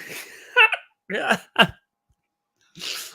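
A person hiccups after laughing, a couple of short sharp vocal catches with breathy sounds close to the microphone, separated by brief pauses.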